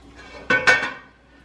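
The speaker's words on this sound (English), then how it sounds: "now I'm going to put the shallots in" Shallots drop into melted butter in a heating pan, giving two quick, close bursts of clatter and sizzle that fade within about half a second, with no talking.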